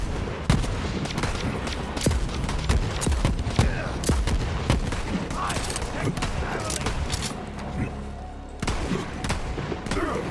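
Dense, rapid gunfire from the video game Borderlands 3 on PC, with repeated sharp shots and bursts crackling over a busy battle din for the whole stretch.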